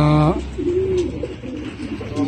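Pigeons coo in a loft, a close, soft rolling call repeated over a low background, with a brief electronic tone at the start.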